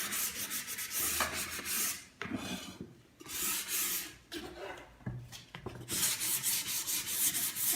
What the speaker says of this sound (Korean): 그리고 동봉해드린 사포로 이런 받침면들을 닦아주시면 됩니다.